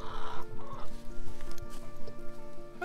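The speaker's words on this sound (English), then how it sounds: "You gotta see these chickens." Chickens cluck and chatter close by in a steady jumble, with a low hum in the background.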